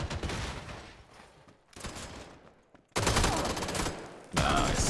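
A PUBG gunfight with dense volleys of rapid rifle fire that crackle in long bursts, pause briefly, then return even louder and fuller for an extended exchange.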